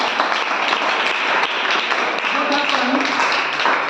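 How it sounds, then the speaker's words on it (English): Clapping from an audience at a public speaking debate practice session, dense and continuous with a few sharper individual claps standing out over the steady roar. "Please clap for this point."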